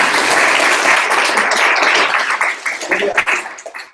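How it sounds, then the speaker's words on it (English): Audience applause at a charity event, a dense burst of clapping that thins out into scattered claps toward the end, with a voice briefly audible. "Well, let's clap."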